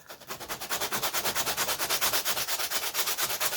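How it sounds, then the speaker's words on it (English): Rhythmic back-and-forth scraping of a sanding block on balsa wood, quick even strokes close up, steady and fairly loud with no talking. "do some sanding on this."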